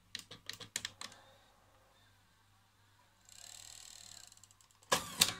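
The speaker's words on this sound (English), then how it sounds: "Let's eject the tape if we can." A 1984 JVC HR-S10E top-loading VCR ejects a tape, with a few sharp mechanical clacks, then a soft motor whir, and a final loud clunk as the mechanism opens.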